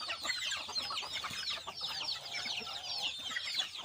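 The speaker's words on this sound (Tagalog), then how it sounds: "Yun mga sisiw natin." Chicks peep in a steady high chatter outdoors, with occasional lower clucks from farm chickens mixed in. The calls are continuous and moderately faint throughout.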